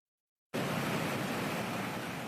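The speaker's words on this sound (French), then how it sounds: "Une rivière déchaînée, gonflée par les pluies torrentielles." A raging river swollen by torrential rain on Réunion island roars as a dense, continuous wash of rushing water, loud and even, cutting in abruptly after a short silence.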